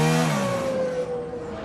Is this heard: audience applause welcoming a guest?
no